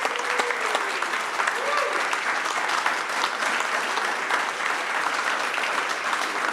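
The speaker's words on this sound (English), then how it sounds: "Can we give him a round of applause?" Sustained audience applause fills a city council meeting during a celebration of service, dense steady clapping from a sizable crowd with a few voices mixed in throughout.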